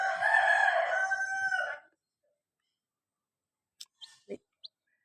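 A rooster crows once, loud and close, in a long drawn-out call, followed after a pause by a few faint scattered clicks and clucks.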